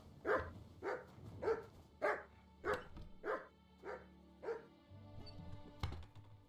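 A dog barks about eight times in a steady, evenly spaced series, fairly close and loud, then gives way to quieter shuffling and a sharp knock near the end.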